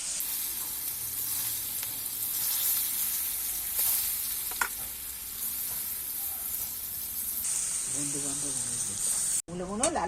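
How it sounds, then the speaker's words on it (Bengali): Radish pieces fry in leftover oil with a bright, steady sizzle, close and continuous, occasionally interrupted by brief scrapes and a short pause near the end. "এই বাকি তেলের মধ্যে মূলগুনোও ভেজে নিচ্ছি"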